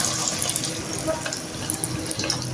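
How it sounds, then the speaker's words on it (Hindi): Chicken drumsticks lowered into hot oil in a kadhai produce a continuous close hiss with scattered crackles and pops, with no talking. "एक कढ़ाई में मैंने ऑयल लिया है, अच्छा खासा गर्म हो गया। अब डालेंगे इसमें बिल्कुल आराम से"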